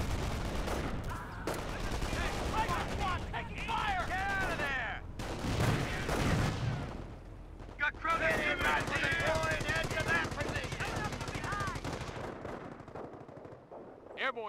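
Gunfire and artillery in a Company of Heroes match between American and Wehrmacht forces: dense, continuous bursts of machine-gun and rifle fire with heavy explosions, loud and layered under shouted soldier voice lines.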